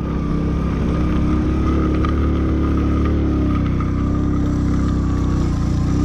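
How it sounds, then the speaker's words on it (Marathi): A Hero Passion Pro motorcycle labouring steadily uphill in first gear on a mountain road toward Ladakh, its engine droning loud and continuous without speech. "पहिल्या गिअर मध्ये गाडी."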